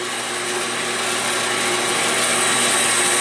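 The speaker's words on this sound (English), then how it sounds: "I'm going to use a bandsaw that I have. And actually I have it working away right now." A Harbor Freight bandsaw runs steadily while cutting a horizontal wood piece for a rolling firewood rack, giving a loud, constant mechanical whir and hum with no pauses and no voices.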